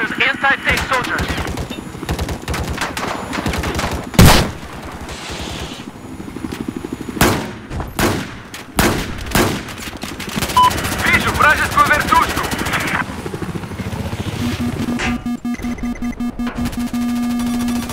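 Gunfire in Battlefield 4 on the Zavod 311 map: loud bursts of automatic fire and single shots crack out repeatedly, with explosions and a sustained rapid burst near the end, while a player talks over the battle.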